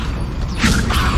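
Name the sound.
Levioso levitation spell cast in Hogwarts Legacy video game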